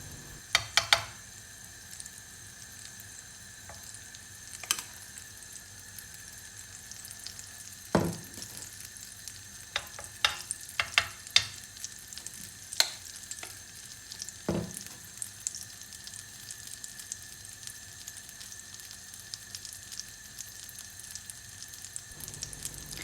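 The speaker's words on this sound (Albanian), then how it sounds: "tani fillojmë që të hedhim nga masa e pancake-ut" Spoonfuls of homemade pancake batter fry in a pan, a soft steady sizzle with a few sharp clinks and scrapes scattered over it, no talk.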